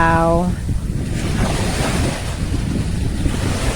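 Sea waves wash onto a calm beach under steady wind buffeting the microphone, a continuous broad rushing hiss with gentle surges.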